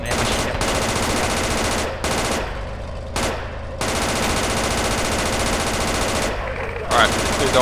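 Sustained automatic weapon fire in the military shooter Project Reality, loud and continuous rapid bursts broken by a few short gaps, with faint radio-style talk underneath.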